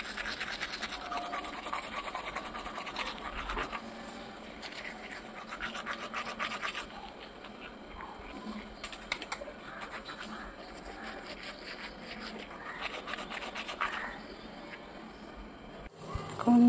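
A toothbrush scrubs teeth with continuous bristly scratching strokes, close by, with short pauses between bursts of brushing and a sharp knock near the end.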